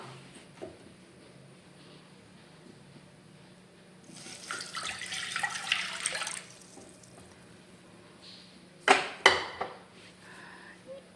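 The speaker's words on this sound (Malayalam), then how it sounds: "നമുക്ക് അതിലേക്ക് രണ്ട് ഗ്ലാസ് വെള്ളം ഒഴിച്ചു കൊടുക്കാം" Two glasses of water poured into a heated pan for cooking vermicelli give a loud, splashing gush for about two seconds, then a few sharp splashes and trickles a little later, over a quiet kitchen background.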